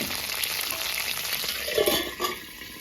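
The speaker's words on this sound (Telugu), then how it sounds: "కొంచెం ఆయిల్ వేసుకొని ఇవి కూడా మంచిగా ఫ్రై చేసుకుందామండి." Ivy gourd pieces fry in oil in a pan for a roti chutney, a loud, continuous close sizzle with a few stirring scrapes rising near the end.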